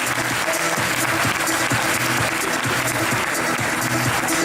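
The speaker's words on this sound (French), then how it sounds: "Vous pouvez applaudir un peu plus si vous voulez aussi." A crowd applauds loudly and steadily at a mountain-bike race podium, a dense continuous wash of clapping with a low rhythmic murmur of voices or music underneath throughout.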